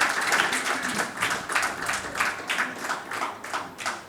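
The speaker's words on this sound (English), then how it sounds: "if you would like to join me in applauding all our dignitaries here on stage" An audience applauds dignitaries on stage at an event, steady rhythmic clapping from many hands that swells in waves and continues throughout at moderate distance.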